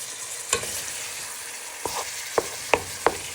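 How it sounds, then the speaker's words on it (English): Beef mince for a Chinese beef stir fry sizzles softly in a pan while a wooden spoon chops and breaks it up, giving several sharp scraping knocks over a steady hiss. "your mince now in your pan, nice and sizzling, you want to start breaking it down with the wooden spoon"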